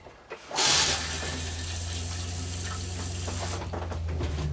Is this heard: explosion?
no